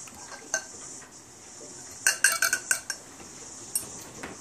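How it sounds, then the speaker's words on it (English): A whisk clinks briskly against a bowl while blending an egg and milk batter with cockle stock for fritters, a quick close run of light metallic taps and scrapes in a quiet kitchen. "And just give that a light whisking so everything's mixed together"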